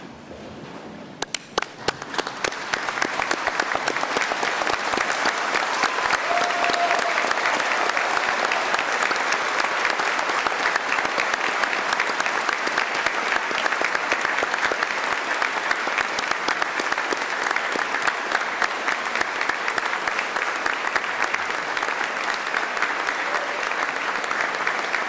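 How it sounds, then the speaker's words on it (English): A standing audience at the University of Adelaide's 2025 medicine graduation ceremony applauds its graduates. Sparse claps swell within seconds into a long, dense, even roar of clapping from a large hall that holds steady for over twenty seconds. "join me in one last round of applause for today's graduates"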